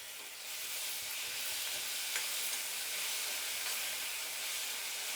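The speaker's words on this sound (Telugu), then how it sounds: "ఇప్పుడు ఇందులోనే తెల్లగడ్డ, ఇది కూడా కొంచెం బాగా వేయించుకోవాలండి" Garlic fries in oil in a pan for a ridge gourd curry with a constant, bright hissing sizzle, close and steady with no talk.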